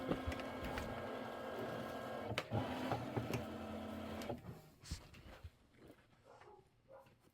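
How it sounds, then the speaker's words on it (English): A machine stitches a Kimberbell Hello Sunshine quilt block with a steady mechanical hum and whir for about four seconds, then stops, leaving quieter scattered handling sounds. "And then we'll get stitching."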